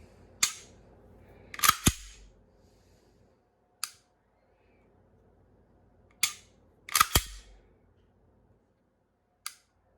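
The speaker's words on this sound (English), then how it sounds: "today we're going to be shooting this Remington 115 grain full metal jacket" Shots from a SIG Sauer P320 X-Five Legion pistol firing Remington 115 grain full metal jacket rounds, six sharp reports in two clusters with quiet gaps, some in quick pairs, moderately distant.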